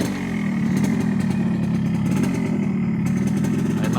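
A Yamaha RX King two-stroke motorcycle engine runs steadily close by, a buzzy, crackling idle that holds constant without any talking.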